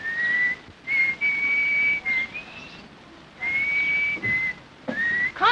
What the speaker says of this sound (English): Can't you whistle something else?